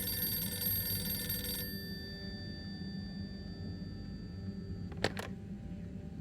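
In Harold Halibut, an old telephone's bell trills loudly for about a second and a half and then stops, followed by quiet low ambience and two brief sharp clicks near the end.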